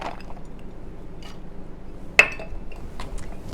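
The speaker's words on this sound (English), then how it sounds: "next I'm going to add a quarter cup of walnuts to each" Walnut pieces drop into dishes with a single sharp clink that rings briefly, over quiet kitchen background.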